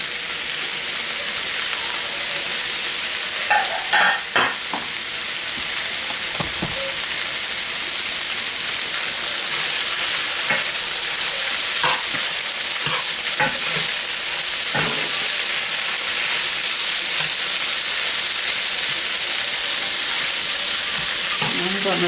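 Peppers sizzle loudly and steadily in a hot frying pan for pepper steak, a dense continuous hiss broken by scattered stirring clatters and pops, close up with no talking.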